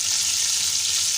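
Chopped onions sizzle steadily in a pot for a ghiya kadu gosht curry, a continuous close, even frying hiss with no talk.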